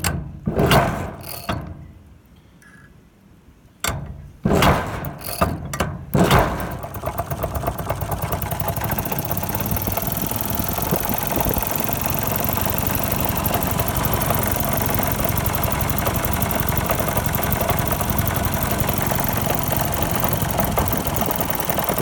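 An old Maytag 72 engine driving a belt to generate electricity, starting with a few sputtering pops and hesitant firing before settling into a steady, loud, rapid mechanical running clatter that continues to the end.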